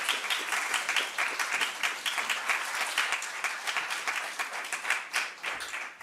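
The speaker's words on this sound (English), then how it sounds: "So a round of applause for Judith." Warm, sustained applause from a conference audience welcoming chess grandmaster Judit Polgar at the London Chess Conference, dense even clapping from a sizeable crowd lasting throughout, with no talk over it.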